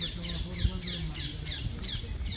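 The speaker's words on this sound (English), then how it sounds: "You can hear the birds." Birds squawk in a park on Rome's Celio hill, a steady run of harsh, repeated calls at a moderate distance over faint background noise.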